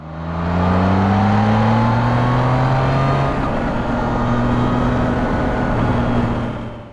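Triumph Trident 660 with a triple engine accelerating, a smooth, loud rising whine from start to finish with a gear change partway through.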